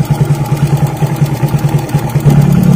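Second-hand Suzuki Smash 115 motorcycle with a heavily rusted body, its engine idling steadily nearby with a rapid, even low thrum that swells a little louder near the end.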